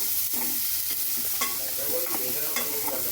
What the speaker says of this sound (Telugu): బ్రౌనిష్ కలర్ వచ్చేంత వరకు మనం మిక్స్ చేస్తూనే ఉండాలి